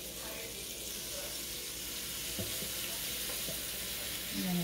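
Rosemary-buttered grilled cheese sandwich sizzling steadily on a waffle maker, a soft continuous hiss with a few faint clicks and knocks, no talk over it.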